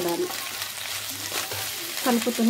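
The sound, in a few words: stirring pasta with egg in a frying pan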